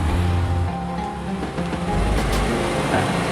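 A Honda Vario motorcycle engine with a battery charging fault runs at close range, its steady hum rising briefly as the throttle is opened slightly, with no talk.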